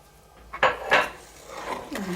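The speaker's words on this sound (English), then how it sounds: "And gently stir." A spoon working through banana tea bread batter in a bowl, a few soft clinks and scraping strokes close by, separated by brief pauses, with no talking.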